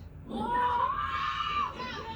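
A frustrated, terrified teenager lets out a long, loud, strained scream that rises and holds before trailing off.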